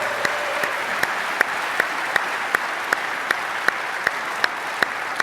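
A conference general-session audience gives steady, dense applause that stays at an even level throughout, with a few sharper claps standing out regularly.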